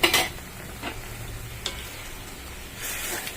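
Paneer mince with kasuri methi frying in a pan while being stirred, giving a soft continuous sizzle broken by a few clear spatula scrapes and clinks, louder at the start.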